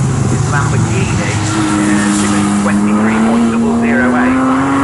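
A Lamborghini GT race car, number 13, roars loudly and continuously around the Snetterton circuit during a GT Cup Championship race, its engine note rising steadily in pitch as it accelerates, with a commentator talking over it.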